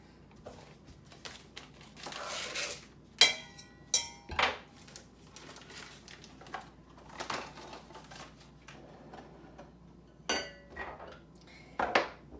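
Pastry blender working Crisco into flour in a bowl, with scattered scraping and sharp metallic clinks against the bowl, uneven bursts separated by quieter pauses.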